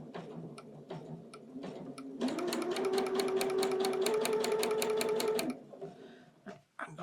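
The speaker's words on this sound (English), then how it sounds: "We're going to sew on both lines that we drew." A sewing machine stitches a quilt block along drawn lines, its needle tapping in a rapid, even rhythm for about three seconds, with quieter handling clicks before and after.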